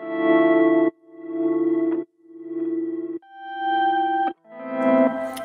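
A sequence of sustained guitar notes processed with an LFO tool, each with a rapid pulsing wobble in volume, played one after another with short gaps between them.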